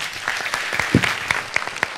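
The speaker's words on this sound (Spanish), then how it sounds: "Un aplauso" Audience at a Ruby programming conference talk applauding a speaker, a short burst of scattered clapping with distinct individual claps standing out, moderately close and brief.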